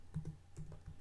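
Keystrokes on a computer keyboard while configuring a CentOS 7 hostname, about a dozen close taps in quick irregular bursts with brief pauses, nobody talking.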